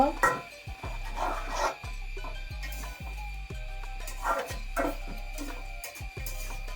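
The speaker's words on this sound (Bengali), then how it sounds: "ধনিয়া পাতা কুচি দিয়ে আবারও নেড়ে ছেড়ে মিশিয়ে নেব" Chopped coriander leaves are stirred into spinach cooking in a pan, with repeated rhythmic scrapes and knocks of a spoon against the pot over a faint background hum.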